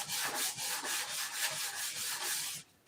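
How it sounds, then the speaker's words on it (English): Rhythmic back-and-forth strokes of sandpaper rubbing wood, about a dozen even scrapes close up, stopping at the end. "I've been sanding a while."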